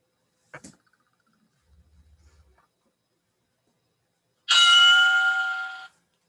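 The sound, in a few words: workout timer bell ending the exercise interval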